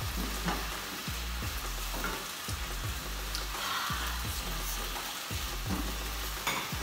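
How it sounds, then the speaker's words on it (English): Diced bacon strips fry in a pan while a spatula repeatedly pushes them apart, a dense continuous sizzle broken by regular low scraping strokes about every second, close with no talking. "because I had diced the bacon into strips, I'm trying to separate them as they're cooking."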